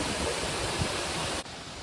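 A waterfall near the hanging root bridges of Meghalaya, India, roars as a steady, broad rushing hiss, constant and fairly distant, with no voices over it.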